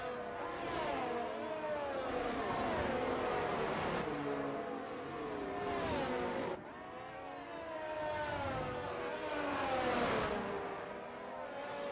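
Formula 1 cars in an F1 racing video game at the Australian GP, engines whining and shifting pitch continuously as cars chase for an overtake, moderately loud with overlapping engine notes.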